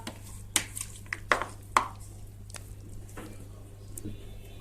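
Spoonfuls of strained yogurt drop into a bowl of cooked green lentils, making several soft wet plops and scrapes in a quiet kitchen against a low steady hum.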